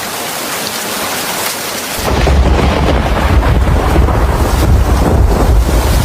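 Rain and thunder in an animated Bengali cartoon: light rain at first, then a heavy downpour with a deep rumbling roll that swells and stays loud.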